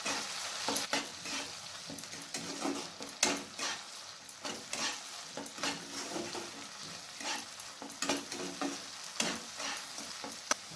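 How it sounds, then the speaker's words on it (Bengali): A spoon stirs a spiced paste mixed with tomato paste sizzling in a pan over medium-low heat for matar paneer, steady frying hiss with repeated scraping strokes and light utensil clinks, no talking. "বাটাটাকে টমেটো পেস্টের সাথে ভালোভাবে মিক্স করে নিতে হবে।"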